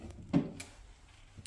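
A single soft wooden knock of a small cabinet drawer opening or closing, brief and fairly quiet in a still room.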